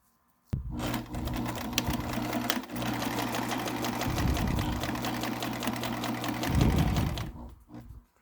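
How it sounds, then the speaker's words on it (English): A sewing machine stitches the seam of a fabric cabin window cover, starting abruptly and running in one continuous fast whirring burst for about seven seconds with slight speed surges, close and with no talk. "I'm going to overlap this guy, sew this part, then fold it over and sew the whole thing"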